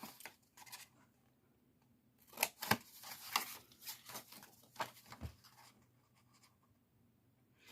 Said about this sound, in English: we're going to cut this score line up until here